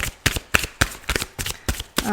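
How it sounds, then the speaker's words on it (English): Cards are riffle-shuffled up close in a rapid run of crisp, papery bursts, each separated by a brief pause. "I'm shuffling too hard."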